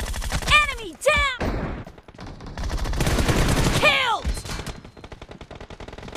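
Gunfire rattles in BGMI team deathmatch, dense bursts of rapid shots with sharp zipping ricochet tones, mixed with shouted game callouts between volleys.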